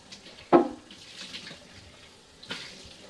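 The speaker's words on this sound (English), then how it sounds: "You just rinse it all out really well." Tap water runs quietly nearby, with a sharp splash or knock early on and another clatter later, as baby food maker parts are rinsed under a faucet.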